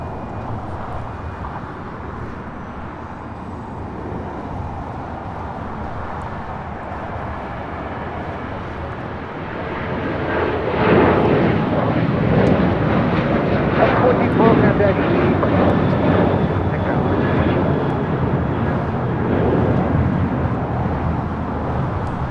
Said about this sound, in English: This is Alaska Airlines 1412 taking off to Liberia on a 737-800.